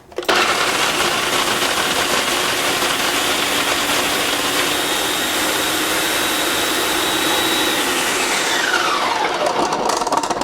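Farberware food processor on chop mode, steady loud whirring motor roar as it chops cubed Parmesan cheese, running continuously alone for about ten seconds before winding down at the end.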